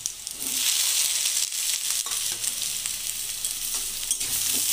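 Eggplant and broad beans dropped into a pan of frying potatoes sizzle loudly and steadily, with occasional stirring scrapes, close up and with no talking.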